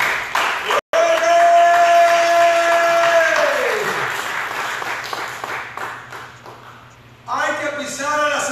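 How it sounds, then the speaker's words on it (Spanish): A church congregation claps loudly for the Lord, a broad wash of applause mixed with sustained shouted or sung voices and a loud vocal outburst near the end. "¿Cuánto le da un aplauso fuerte al Señor?"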